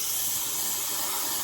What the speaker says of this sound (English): I'm just test spraying on it like that to make sure stuff is coming out